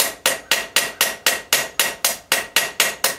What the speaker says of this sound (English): Well, they call it a ball peen hammer.